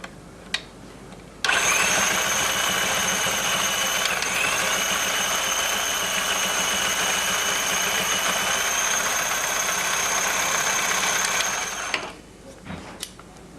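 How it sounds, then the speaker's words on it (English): A portable carpet binder machine sews with a loud, steady mechanical whir that starts abruptly, runs evenly for about ten seconds, then stops, with a few clicks before and after. "Yes, the machine is sewing."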